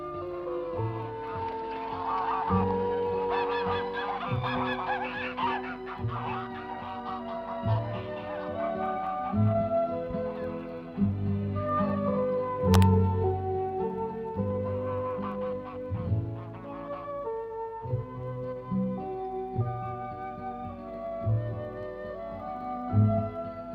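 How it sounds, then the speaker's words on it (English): Black swans honk repeatedly in flight in the wild in Tasmania, with overlapping honking calls throughout, set against a steady background. "Its unhurried and measured wing flap and its periodic honking are typical as they travel through the"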